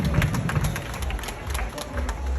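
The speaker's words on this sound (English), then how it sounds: "please give a round of applause for them" A crowd at an evening outdoor festival gives a round of applause, producing dense, steady clapping at moderate volume with a low rumble underneath and faint voices mixed in.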